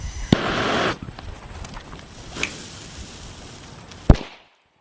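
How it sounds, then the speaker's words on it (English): A sharp firecracker bang bursts inside a fruit, followed by scattered debris and a second loud crack, with faint voices and rustling in between. "I'm just gonna put it inside of this fruits and vegetables and blow them up."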